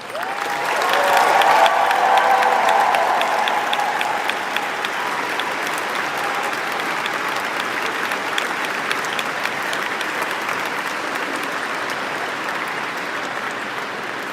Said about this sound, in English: please join me in a round of applause for our biggest supporters